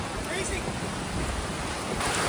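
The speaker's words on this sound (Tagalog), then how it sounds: "Oh, lakas ng hangin." Strong wind gusts roar and buffet the microphone at a campsite with tents, a dense, loud rush that fills the short stretch without pause.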